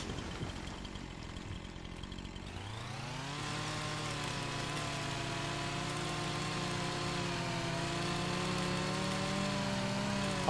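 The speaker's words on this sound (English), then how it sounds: "I might as well just chop a few more down while I'm got the chainsaw out" A chainsaw in the Farming Simulator 25 video game starts up and settles into a steady, droning buzz that holds at an even level throughout, close and alone.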